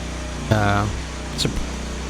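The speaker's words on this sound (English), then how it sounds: "this is actually the second time I started the engine." A firewood processor's engine runs steadily at a low, even hum, with brief louder bursts over the drone and a voice speaking over it.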